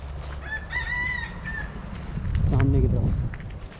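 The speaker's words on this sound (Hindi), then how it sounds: "जंगली मुर्गे" A wild junglefowl rooster crows loudly near Kaziranga National Park, Assam, with a clucking fowl close by and a low rumble of traffic underneath.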